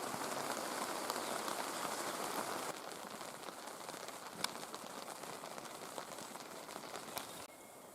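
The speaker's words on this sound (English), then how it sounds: "I don't mind a bit of rain" Steady rain hisses across a surface, with scattered drops tapping nearby; the downpour eases slightly partway through and continues without any voices.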